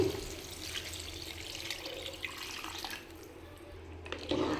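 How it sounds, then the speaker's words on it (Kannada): Rinse water from a mixer jar is poured into mutton curry paste in a home kitchen for village-style mutton saaru, a steady close splashing trickle with no talk. "ಈಗ ತೊಳೆದಿಟ್ಟಿದ್ನಲ್ಲ ನೀರು, ಅದನ್ನ ಹಾಕ್ತಾಯಿದ್ದೀನಿ."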